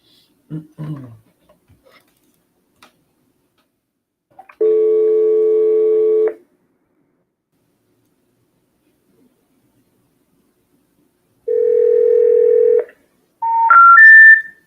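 A telephone dialing a number that is not in service: a short burst of dial tones, then long flat tones separated by silence and a rising three-note intercept signal at the end, with brief handling noise at the start.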